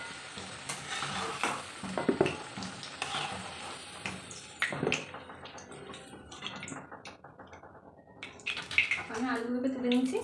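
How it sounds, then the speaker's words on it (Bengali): Potatoes frying in hot oil in a pan for mutton kosa, a close sizzling hiss with clinks and scrapes of a utensil against the pan, fairly loud and continuous. "দেখুন আমার আলুটা ভাজা ভাজা হয়ে গেছে, এবার আমি এগুলোকে তুলে নেবো।"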